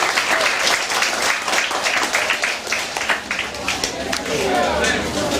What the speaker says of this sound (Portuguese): Uma salva de palmas aqui a nossa visita.